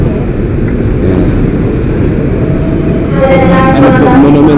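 LRT commuter train at a station: a loud, continuous low rumble and roar of rolling rail cars, with squealing, tonal metallic whines rising near the end as the train moves close by.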